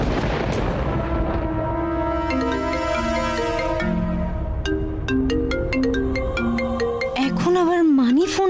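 A phone ringtone for an incoming call in a Bengali TV serial scene plays a loud, steady, melodic run of electronic tones, with a warbling sweep at the end.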